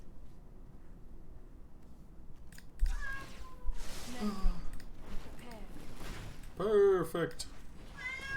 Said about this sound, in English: The meow of the cat is adorable.